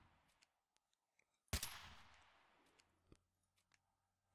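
A single sharp gunshot from an enemy in a wartime video game cracks out, followed by a decaying echo, with a few faint clicks and a second short report near the end.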